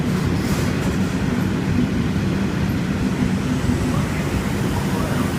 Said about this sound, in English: Got a K-set departing platform 4, not too sure where it's going.